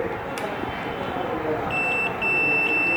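A multimeter gives a steady continuous electronic beep while testing the thermal fuse on a double-door refrigerator, a sustained tone in two stretches over loud background noise.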